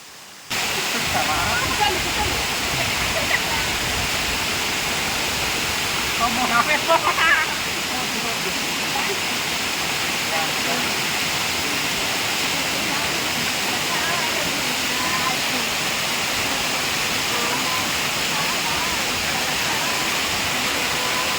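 A waterfall roars in a dense, constant, close rush of water that stays steady throughout, with a voice briefly audible over it.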